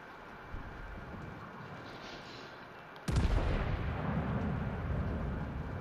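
Battleship main-gun salvo in World of Warships: Legends, a King George V firing high-explosive shells: a sudden heavy roaring boom midway that stays as a loud rumbling wash after quiet game ambience.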